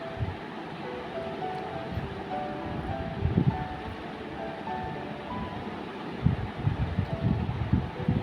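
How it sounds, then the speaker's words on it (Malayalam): An electric beater whirs steadily through eggs with vanilla essence in a bowl for a carrot dates cake, a continuous mechanical drone with some louder rattling bursts partway through. "അതിലേക്ക് 1 ടീസ്പൂൺ വാനില എസൻസും ചേർത്ത് നമുക്ക് നന്നായിട്ട് ബീറ്റ് ചെയ്തെടുക്കാം."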